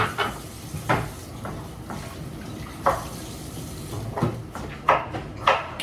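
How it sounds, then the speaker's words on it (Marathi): Dishes being washed by hand under a running tap in a home kitchen in Doha, Qatar, steady water flow punctuated by irregular clinks and knocks of pots and plates, close and moderately loud, no talk. "फक्त बघतायच मी कशी भांडी घासते"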